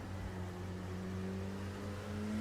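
An LMP2 race car in iRacing is heard from the cockpit at the Nürburgring, its engine holding a steady, droning hum with a constant whir. The sound stays at moderate level throughout, with no talk.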